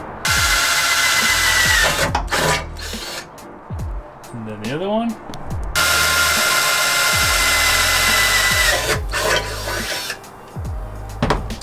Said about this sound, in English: Grab your drill, set it on that punch hole that you just made.